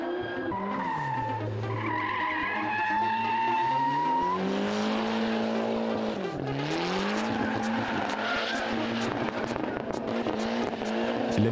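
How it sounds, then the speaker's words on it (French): A BMW and a Ford Sierra drifting in turns, their tires squealing loudly in long sliding wails with engines revving underneath, followed by rapid repeated clicks near the end. "Les deux pilotes réalisent des séries de dérapages à tour de rôle"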